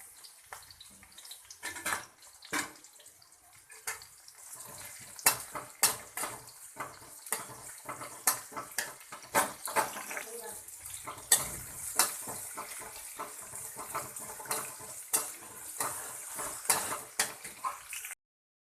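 Onion, cumin seeds and curry leaves frying in a little oil in a pan for veg sagu: continuous close sizzling with frequent stirring clatters and scrapes throughout, no talk.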